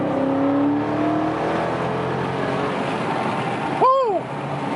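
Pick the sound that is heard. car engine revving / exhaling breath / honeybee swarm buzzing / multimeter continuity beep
car engine revving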